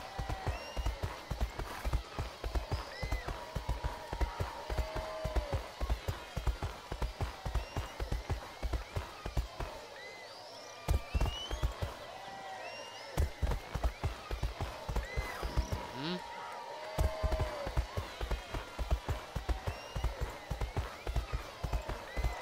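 Horse and rider making a show-jumping or riding round in an arena, hooves clip-clopping in a steady, close rhythm across the whole stretch with brief pauses, while people talk and occasional whinny-like tones appear.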